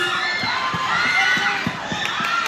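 Teams shout and cheer at a coconut shell race, a loud crowd of mixed voices with children's calls and rhythmic chanting accents.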